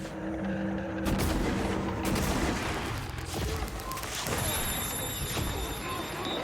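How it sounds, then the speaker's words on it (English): Gunfire in the video game Prey, rapid bursts of shots sounding over game effects and a background hum, with a streamer's voice talking across parts of it. "I gotta start shooting you."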